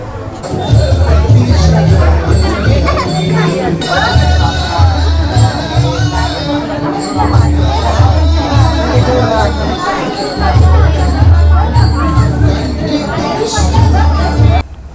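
Dense crowd chatter fills a busy temple during a Guru Purnima visit, many overlapping voices forming a steady loud hubbub close around, with nearby speech mixed in throughout.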